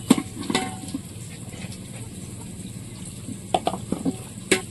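Onion frying in a pan for a village-style deshi chicken dish, a low steady sizzle with a few sharp clinks and stirring clatters near the start and end.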